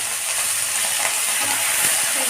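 Chopped vegetables, onions and green chilies sizzle loudly in a hot oiled pan while being cooked down for sambar, a continuous close frying hiss with light stirring and no voices.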